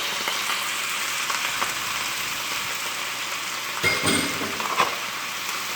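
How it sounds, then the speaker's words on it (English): Broccoli rabe sautéing with garlic in a hot pan gives a steady, close sizzle that hisses evenly throughout, with a couple of brief clinks and stirring knocks near the end and no talking. "And just kind of saute it, just like that."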